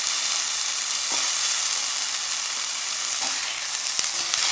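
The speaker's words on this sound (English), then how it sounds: "Now we add the mushrooms." Mushrooms tossed into sautéing onions in a pan sizzle steadily with a bright, even hiss, marked by a few faint utensil knocks.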